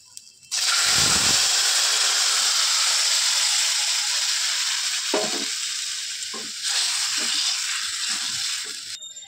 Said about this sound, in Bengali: তেলের মধ্যে শুকনো লঙ্কা আর রাঁধুনি ফোড়ন দেবো